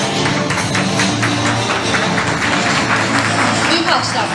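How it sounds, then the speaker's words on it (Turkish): Applause at a graduation ceremony: a dense, continuous patter of many hands clapping, mixed with crowd voices and chatter throughout. "Alkış, alkış, alkış."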